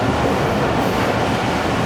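The Pak Business Express train races through Landhi Junction at high speed, a loud, dense roar of wheels and carriages rushing past close by without pause.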